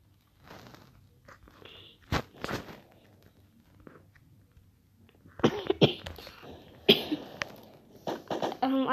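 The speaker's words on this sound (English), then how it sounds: "I'm coughing." A person coughs in several sharp, close bursts, scattered at irregular intervals with quiet stretches between.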